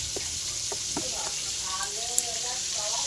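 Fish frying in hot oil in a pan, a steady close sizzle and crackle running throughout, with a person talking softly over it.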